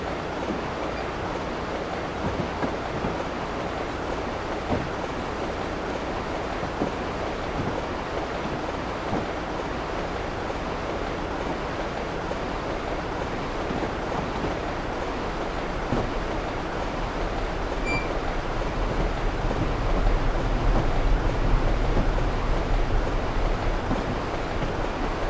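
A train runs on the Aurora to Chicago route in the Train Simulator 2015 video game, giving a steady, broad rumble with a constant hiss throughout that swells slightly toward the end.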